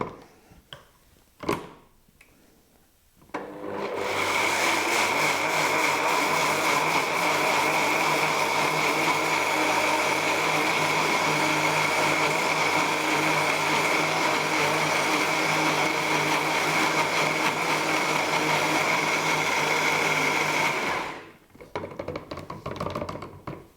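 A blender runs steadily for about 17 seconds, loud and close, whirring as it purées whole mustard seeds with honey into old-fashioned mustard, then cuts off abruptly. A few faint clicks come before the motor starts.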